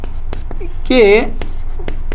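Handwritten working of a class 10 maths solution, with short scratchy strokes recurring steadily under a brief spoken word from a teacher in the middle.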